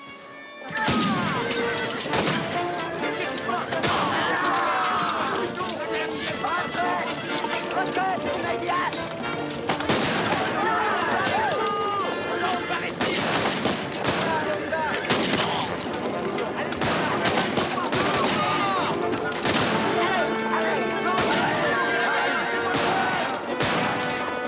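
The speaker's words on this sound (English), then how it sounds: "That was gunfire, a long way off." Rifle fire crackles in the distance across an open battlefield setting, a dense, continuous barrage of overlapping shots with crashes and rushing movement layered over it, loud and sustained without any talk.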